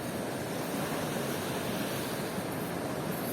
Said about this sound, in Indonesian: Pantai yang sangat indah, namanya ini Pantai Cilograng